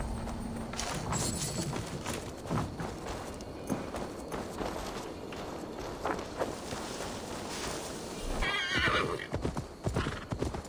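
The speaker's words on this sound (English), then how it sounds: "Now to deliver Magni his horse." Horse hooves clip-clop steadily at a walking pace in Assassin's Creed Valhalla, close and prominent, with a brief whinny and faint background ambience.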